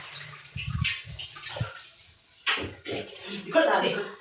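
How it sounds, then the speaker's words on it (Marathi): Fresh water for cooking is poured into a pot after dishwashing, coming in intermittent splashing, gushing bursts separated by quieter pauses. "भांडी घासून घ्यावी आणि ताजं पाणी भरूया म्हटलं स्वयंपाक करायला."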